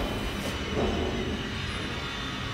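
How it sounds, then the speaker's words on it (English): A train in the sci-fi survival horror game Alien Isolation, a steady low rumbling hum of the rail car running continuously and fairly loud throughout, with no talk over it. "Alright, we got a train, baby."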